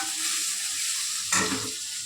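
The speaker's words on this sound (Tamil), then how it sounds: "நல்லா வதங்கிக்கிட்டு இருக்கு." Onion, garlic and curry leaves sizzle steadily in a hot pan for a Tamil sardine curry, with a brief stir that briefly louder the frying midway. The sound is close and carries no talk.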